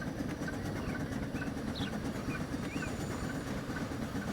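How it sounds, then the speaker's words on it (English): A freight train rolls along in Transport Fever 2, a continuous low rumble with faint rhythmic clatter and a few high squeals, steady and unbroken. "it looks like our freight train is already headed up the valley"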